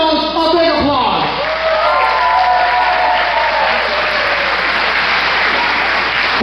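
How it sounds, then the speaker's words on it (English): A wrestling-show crowd in Morehead, Kentucky applauds in a loud, sustained wash of clapping, with a voice speaking over the start before the applause carries on alone. "Give yourselves a big applause."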